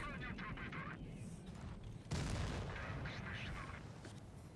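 Tank cannon fire in the mobile game WoT Blitz: a sharp boom lands midway through a short stretch of game noise and faint background effects.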